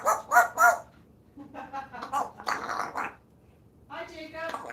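A pet parrot named Cosmo imitates a dog, giving a few sharp bark-like calls, first three quick ones then scattered yips, close and fairly loud with brief voices between.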